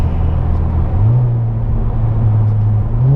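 A KIA car accelerates hard in third gear, its loud, steady engine drone rising in pitch as it pulls, with continuous road rumble underneath and no talk.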